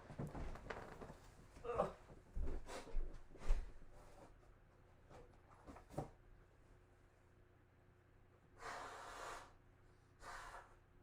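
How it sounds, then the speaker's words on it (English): Several sharp, forceful nasal blows and snorts in quick bursts, followed later by a longer breathy blow, with some quiet movement between. "I need to blow my nose again."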